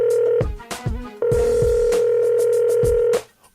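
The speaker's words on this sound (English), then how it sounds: "I'm going to get on the phone here and call Crypto Phone." A steady telephone dial tone hums, broken by several short bursts of touch-tone keypad beeps as a number is dialed, then the tone resumes before cutting off to near silence.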